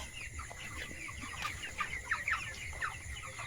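Broiler chickens on a poultry farm cluck and chirp in short scattered bursts over a low steady background hum, several birds calling at moderate distance with no talking.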